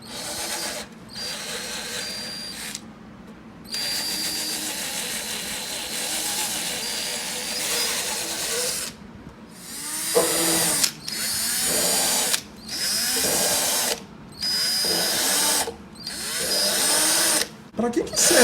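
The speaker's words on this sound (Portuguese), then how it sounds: "a broca, na hora que eu passei, ela puxa uma rebarba para cima" A power drill bit bores into a wooden musical instrument, whining loudly in long sustained runs that stop and restart in shorter bursts toward the end, pulling a burr up from the hole.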